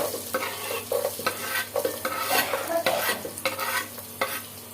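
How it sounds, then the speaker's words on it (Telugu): Onions, with green chilies, stirred in a hot frying pan for tomato rice, a steady sizzle broken by repeated clanking scrapes of a spoon against the pan. "ఇప్పుడు ఆనియన్స్ వేసుకోవాలి"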